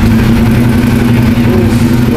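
A Ducati Diavel motorcycle with an aftermarket exhaust rumbles loudly up close with a deep, throaty exhaust tone, steady and droning with slight rises in pitch.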